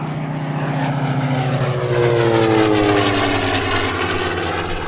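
SB2C Helldiver, a WWII Navy dive bomber, makes a low pass at an airshow, its loud radial propeller engine droning steadily with a rising then falling pitch as it sweeps by, no voices over it.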